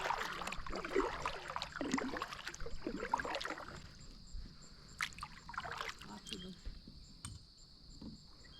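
Kayak paddling along narrow park channels, soft splashy paddle strokes and water trickles repeating near, with crickets and insects chirping steadily behind.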